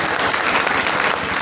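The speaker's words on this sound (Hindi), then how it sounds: "शानदार तालियां।" Village panchayat assembly crowd breaking into loud, sustained applause, dense continuous clapping from many hands with no talk over it.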